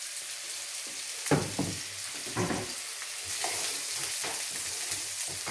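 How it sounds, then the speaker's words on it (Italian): Three small diced zucchini sizzle as they sauté in a pan, a steady close frying hiss broken by louder scraping bursts of stirring. "E aggiungiamo le nostre zucchine, sono tre, sono piccine, tagliate a dadini. E le facciamo rosolare."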